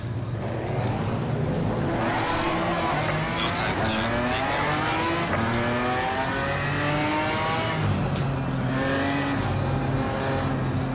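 A GT3 race car in Assetto Corsa Competizione at Zolder revs hard through the gears, the engine note climbing and dropping in repeated sweeps with brief tire noise, loud and continuous throughout.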